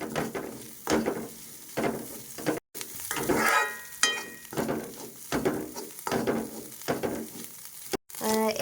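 Egg thoran, Kerala-style scrambled egg, sizzling in a pan while a spoon stirs and scrapes it in repeated strokes, close and fairly loud, with someone talking over it.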